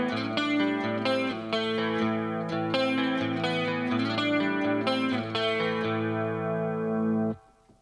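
Distorted electric guitar riff, thick and sustained with steady chugging rhythm and chorus-like shimmer, played loud and alone for about seven seconds before cutting off into silence.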